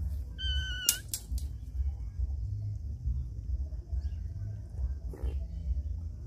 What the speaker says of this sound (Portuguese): O gatinho já tá miando aqui, querendo comer uma tilapinha.